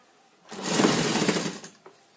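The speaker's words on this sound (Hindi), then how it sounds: "हम इस पे किनारे से सिलाई लगाएंगे।" A sewing machine stitching a katori blouse runs in one short burst of just over a second, a close whirring rattle that starts abruptly and stops with a small click.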